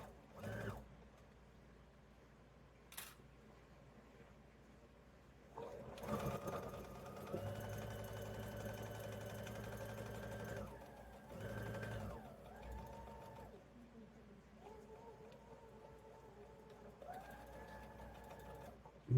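A sewing machine stitches straight across a fabric tote, its steady mechanical whirring running in a long burst with brief pauses and shorter runs for back tacking, close up and fairly loud.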